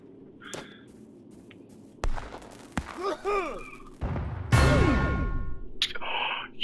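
Cannons fire in a video game battle against archers, with several sharp booms and thuds followed by whooshing, descending tones and a loud blast, all fairly distant and interspersed.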